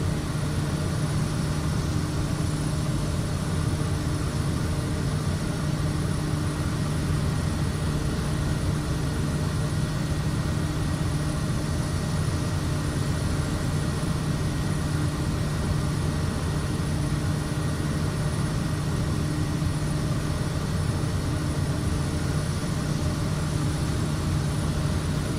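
Cessna light aircraft engine idling steadily while taxiing in Microsoft Flight Simulator 2024, a constant droning hum with a low tonal buzz, unbroken and even throughout.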